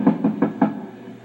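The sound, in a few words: knocking on a door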